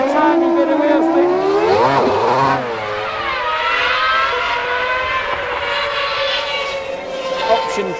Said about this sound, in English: I'm going to put some revs on.